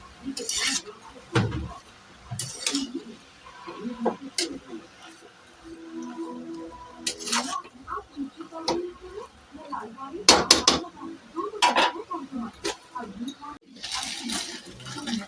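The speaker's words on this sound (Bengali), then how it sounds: "একটু দিয়ে ভালো করে আমি নেড়ে একটু ঢেকে দেবো।" A spoon stirs and clinks against a pan of mixed vegetable chop mixture in irregular scrapes and taps, with a voice murmuring in between.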